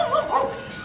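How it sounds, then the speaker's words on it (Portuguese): A small dog gives a quick pair of sharp yips and barks from close by along a residential street, brief and fairly loud against a quiet outdoor background. "Olha o cachorrinho ali."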